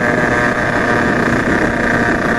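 A DRD motorcycle fitted with a 70cc Italkit engine riding along, giving a steady, continuous buzzing engine drone with wind rush over the microphone, close and fairly loud throughout.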